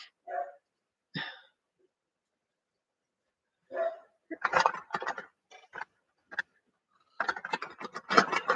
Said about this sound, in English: did your dogs all go crazy when my dog started barking?